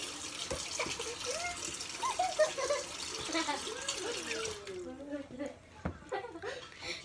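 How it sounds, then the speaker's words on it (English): A running tap rinses sticky honey off hands at a sink, a steady close stream of water with brief laughter over it and talk toward the end. "I'm just rinsing off this"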